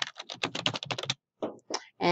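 A student's name typed on a computer keyboard: a quick run of close, crisp key clicks, a brief pause, then a few more taps.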